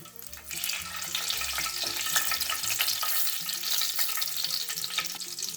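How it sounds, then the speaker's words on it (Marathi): Cumin seeds sizzle in hot oil, tempering a shendadi and chavali vegetable dish, giving a bright, continuous crackle. Low tonal background sounds run underneath, and no one speaks. "मी इथे कडे तेल टाकून घेतले आपले तेल तापले आपण जिरं घालून घेऊ"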